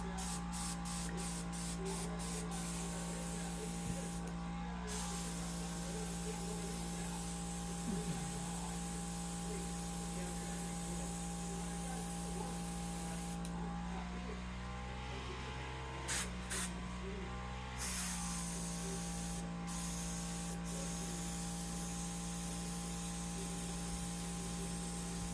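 Spray paint hisses steadily onto a small Meus Ripper pocket crawler model as another coat goes on, a long close spray broken by a few short pauses.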